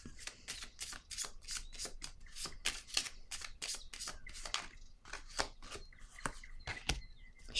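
Playing cards being shuffled over and over before a card is drawn, close and crisp, a rapid run of riffling bursts with no talking.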